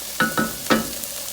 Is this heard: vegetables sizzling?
yes